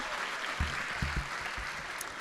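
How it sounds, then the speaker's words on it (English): Steady applause from a crowd at a high school honors ceremony fills the whole stretch, a dense wash of clapping with a few low murmurs beneath it. "Let's give them one more round of applause"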